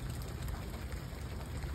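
Continuous outdoor rainfall makes a dense, even wash of noise throughout the brief stretch, with no voices or other distinct sounds over it.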